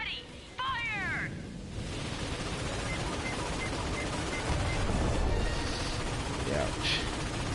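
Ship cannons fire in a space combat video game, a sustained roar of gunfire and rumbling booms, with a brief chirping sweep near the start and a heavier surge midway.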